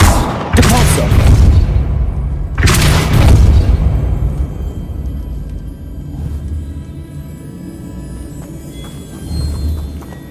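Depulso spell cast in Hogwarts Legacy, two loud booming blasts a couple of seconds apart, each with a sharp attack and rumbling tail, then a quieter low ambient hum.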